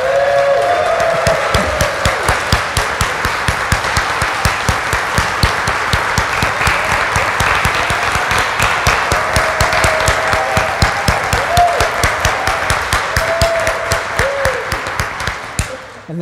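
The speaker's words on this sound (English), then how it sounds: "we've offered some applause and some praise as part of our appreciation" A church congregation applauds during a Sunday morning service, welcoming a ministry intern giving her first sermon: sustained, dense hand clapping fills the room steadily for about sixteen seconds, with no speech over it.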